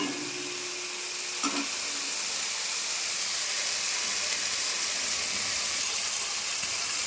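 Turmeric in a little mustard oil sizzles in a pan with a steady, bright hiss that stays even throughout, close by and uninterrupted by speech.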